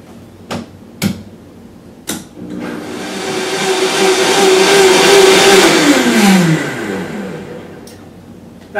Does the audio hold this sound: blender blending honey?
yes